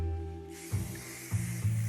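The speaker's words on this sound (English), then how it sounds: "Spray it on your non-combed out hair." Redken Control Addict hairspray sprayed onto uncombed hair in a steady, close hiss that starts after about half a second and runs to the end, with a few soft low bumps underneath.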